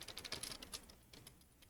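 A computer keyboard clatters with quick, soft keystrokes as a command is typed, a short close burst of clicks that thins out toward the end, quiet with no talk.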